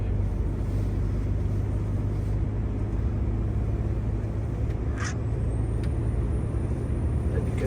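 A Scania 770S semi truck engine compression brake drones as a loud, steady, deep rumble heard from inside the cab, continuous throughout, with a brief hiss partway.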